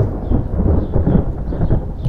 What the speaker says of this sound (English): We are about to be in a storm.